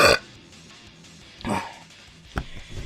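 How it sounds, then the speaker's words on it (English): A man belches after eating pizza, a couple of short throaty bursts spaced across a quiet room, close to the microphone with no talk over them. "Pretty good ammunition for that belch right there"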